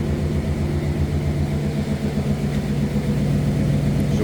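A 1964 Oldsmobile 88 with its 394 V8 running, a steady, loud, low rumbling idle with an even pulsing throb, close by and alone.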